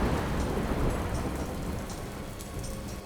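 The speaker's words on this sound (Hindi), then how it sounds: "बहुत तेज बारिश हो रही थी और बिजली कड़क रही थी।" Heavy rain pours steadily in a dense, continuous wash, with low rumbling thunder rolling underneath throughout a thunderstorm night; no voices.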